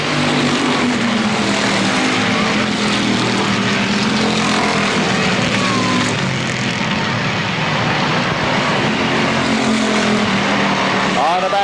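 Race cars at Motordrome Speedway roar through the turns in a dense, continuous engine drone, loud and close, with pitch rising and falling as cars pass; a commentator's voice runs over the noise.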